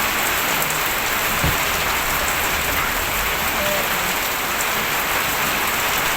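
Steady rain patters on a house roof, a dense, even hiss of drops that stays loud and unbroken throughout.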